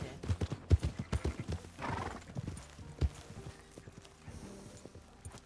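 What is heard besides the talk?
horse clip-clopping and neighing in video game (Red Dead RP)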